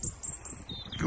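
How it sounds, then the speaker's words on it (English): Birds chirp beside the flooded River Coln in the Cotswolds, a high clear song over a soft background wash of rushing water, brief and fairly close. "I love the sound of the bird song."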